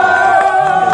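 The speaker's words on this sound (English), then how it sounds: "the cheering for one man who's jumped out of the dirt" Crowd of miners cheering and shouting at an African cobalt mine in the Congo, a dense, steady roar of many voices close by with raised whoops throughout.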